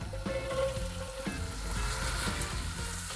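Mirepoix sizzles and fries in the base of a casserole pan for creamy chicken, with a close, steady crackle and occasional stirring scrapes throughout.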